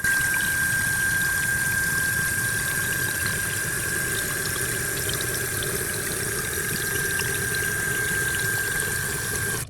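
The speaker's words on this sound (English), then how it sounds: "Now the water should fill back up." Water runs steadily into a toilet tank through a new Fluidmaster universal fill valve with a continuous hiss and faint high whine, unbroken and close by for the whole stretch.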